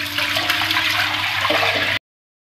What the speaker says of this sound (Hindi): यखनी डाल दी इसमें